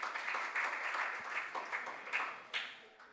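A modest audience at a regional junior science and maths quiz claps for the competing schools, a brief, fairly faint patter of hands that fades out within a few seconds.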